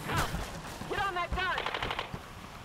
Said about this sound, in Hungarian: Jaj, lövöldöznek, meg minden ilyesmi.